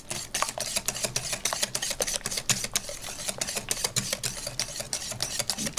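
Sugar is worked into cake batter by hand for an Oreo loaf cake, with a rapid, steady run of close scraping clicks from the utensil against the bowl and no voices.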